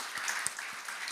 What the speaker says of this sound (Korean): 우리 대학 청년부에게 이 시간 함께 한번 축복의 박수 하겠습니다